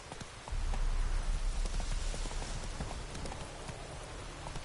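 Horse hooves clip-clop in a steady rhythm in the video game Witcher III, close and fairly loud over a constant rainy background hiss, with no talk.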